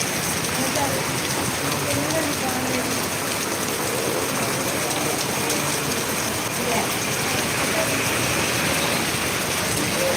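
Steady, heavy evening rain pours down throughout in Bethamcherla, a dense continuous hiss of drops hitting surfaces with no pauses.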